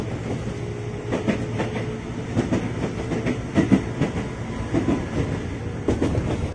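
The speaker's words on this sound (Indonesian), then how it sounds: "Untung KRL yang ketahan di stasiun UI ini cuma 10 kereta ya rangkaiannya." KRL electric commuter train of ten cars held at Universitas Indonesia station, with a steady low rumble and irregular wheel clatter and clicks running throughout, heard fairly close with no talking.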